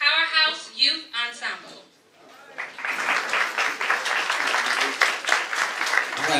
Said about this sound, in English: I need you all to clap a little bit louder